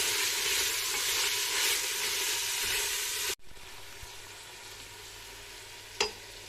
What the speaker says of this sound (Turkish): 4-5 diş sarımsak ekleyerek birlikte kavuruyoruz